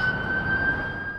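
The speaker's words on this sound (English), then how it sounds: "In Midtown Manhattan, the sounds of sirens are drowned out by music" A siren in Midtown Manhattan holds a steady high wail, faint and distant over a low city rumble.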